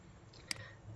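A single sharp computer mouse click in StarUML modelling software, brief and faint against a quiet room hum.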